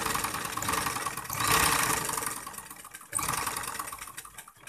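An electric sewing machine stitches the neckline of a kameez, a steady close mechanical whir running continuously with a brief pause near the three-second mark.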